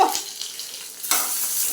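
Food cooking in a pan makes a short burst of sizzling. A sharp clatter opens it and a louder hiss swells toward the end, with no voices.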